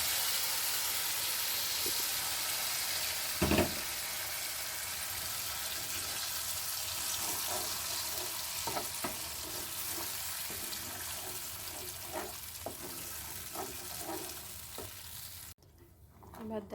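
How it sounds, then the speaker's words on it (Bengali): Spice paste sizzles steadily in hot oil in a pan for a Bengali-style onion- and garlic-free paneer dish. The frying hiss is continuous and close, broken by scattered spoon scrapes and one loud clatter near the start. "এবার দেখো ভালোভাবে মশলাটাকে তেলের সাথে মিশিয়ে নিয়ে একটু কিছুক্ষণ ধরে কষিয়ে নিতে হবে"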